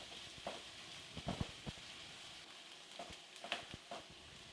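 Diced onions sautéing in a pan for a coconut chicken curry, a faint steady sizzle with scattered soft crackles and stirring clicks, quiet and close, no talking.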